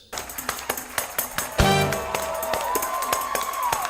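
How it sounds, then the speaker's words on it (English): A tambourine tapped in a quick, regular beat, its jingles shimmering with each hit, then a single stronger strike that leaves a lingering metallic ring under continued light taps. "they make a jingly sound when you hit it,"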